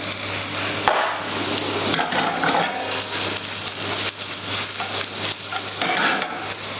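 Onion, leek and garlic sizzle and crackle steadily in a pan as they soften, a close, continuous frying hiss with occasional stirring scrapes and a low steady hum beneath.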